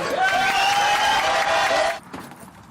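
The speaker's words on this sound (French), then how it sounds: "Applaudissements." A studio audience on a French television show bursts into loud applause with cheering for about two seconds, then it cuts off abruptly and leaves quieter room noise.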